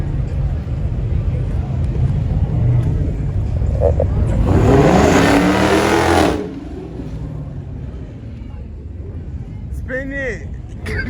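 Burnout at a car show in Memphis: a loud, broad roar of engine and spinning tires swells for about two seconds midway, over steady crowd chatter and voices, then settles back to background engine noise.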